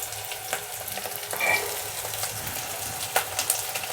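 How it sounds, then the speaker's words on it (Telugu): Onions and fresh field beans fry in a pan for a tamarind eggplant stew, giving a steady close sizzle with a few brief stirring clinks and scrapes and no voices. "ఉల్లిపాయ ముక్కలు వేగేదాకా వేయించుకుందాము కొద్దిగా ఎర్రబడేదాకా"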